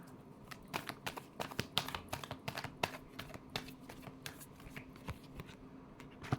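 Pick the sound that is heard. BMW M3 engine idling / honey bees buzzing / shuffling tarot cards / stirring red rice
shuffling tarot cards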